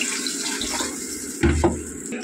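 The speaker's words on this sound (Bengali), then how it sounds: "এবার ফাইনালি জল দেবো।" Water is poured into a pan of fish and egg curry masala with onions and tomatoes, a steady close splashing pour with a heavier gush toward the end.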